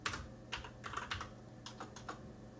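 Quiet typing on a computer keyboard, an uneven run of soft key clicks with short gaps, close and alone.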